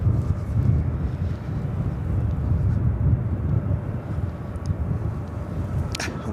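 A Boeing 787-9 Dreamliner taking off from the north side at LAX, bound for Tokyo Narita, makes a steady low roar mixed with wind buffeting the microphone.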